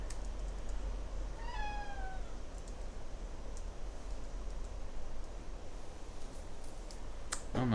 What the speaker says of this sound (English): My cat is demanding some attention.